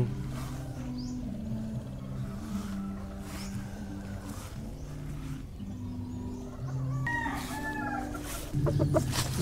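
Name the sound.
gray brood stag gamecock clucking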